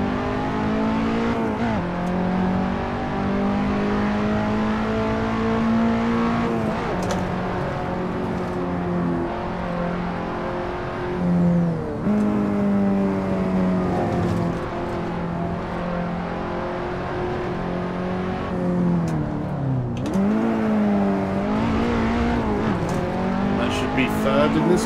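A race car engine in the Assetto Corsa racing game drones and revs steadily, with pitch climbing and dropping through gear changes around a track. Someone talks over it at times.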